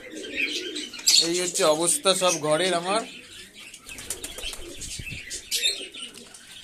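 Domestic pigeons at feeding time, including a black-and-green bird pairing off, coo and chirp close by while wings flap in short bursts; someone talks over the first half, leaving the birds more exposed afterward.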